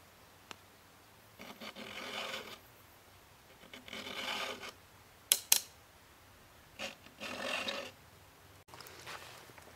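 A hand file sharpens chainsaw chain teeth on a mini sawmill, making three separate rasping bursts of a few strokes each, with a couple of sharp metallic clicks in between against faint background quiet.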